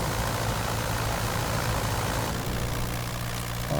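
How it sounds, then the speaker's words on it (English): Curtiss JN-4 Jenny biplane engine in Microsoft Flight Simulator, throttled back to a steady lower drone, a continuous low rumbling idle with a faint rise right at the end, no talking. "I cut back a little bit on the engine"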